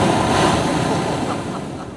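Ocean surf breaking against rocks at Mundywari Beach in Balochistan, a steady loud roar of churning water with gusty wind on the microphone and no voices.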